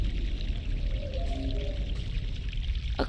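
Water flows steadily in a stream in The Longest Journey, a continuous broadband rush and gurgle at moderate level with a faint tonal warble partway through and no voices.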